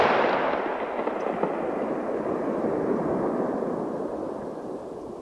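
A heavily compressed modern gunshot sound effect built for film and games: one dense burst that rolls into a long, sustained, slowly fading tail, loud and alone.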